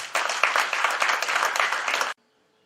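Loud audience applause with dense clapping at a ceremony for Koloko Lévis Claude, sustained and close, then cutting off abruptly into silence.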